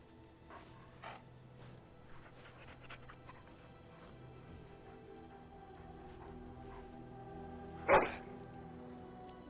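A puppy in Dragon Age: Origins pants quietly and rhythmically, followed near the end by a single short, sharper bark or yip standing out from the faint, steady background.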